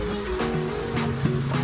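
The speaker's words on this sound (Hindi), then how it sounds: "ये जो वाटरफॉल है यहाँ से हो रहा है" Water pours steadily down a waterfall beside the ancient Nallhar Shiv temple in Nuh, a continuous, even rushing noise at moderate volume with a faint tonal hum underneath.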